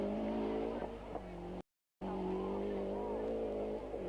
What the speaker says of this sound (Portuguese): E agora Carlos Bica com o seu novo carro emprestado pela equipa oficial